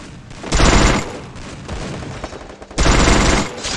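Vector gun in Free Fire fires two loud, rapid bursts of automatic shots, each lasting about half a second, separated by a quieter stretch of scattered shots.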